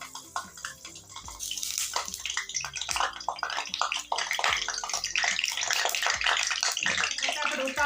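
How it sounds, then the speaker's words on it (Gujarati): Eggplant pieces tipped into hot oil for an eggplant and potato curry sizzle and crackle loudly and steadily, close up and continuous throughout. "પછી આપણે રીંગણ બધા અંદર નાખી દેવાના"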